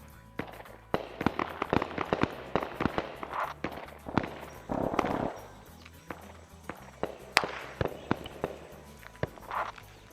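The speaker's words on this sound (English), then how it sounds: "Now we got more shots here." Gunfire in the Arma 3 SOG military shooter game during a supply base sabotage operation: sharp, irregular cracks and pops, some near and loud, others fainter, scattered across the stretch with brief gaps.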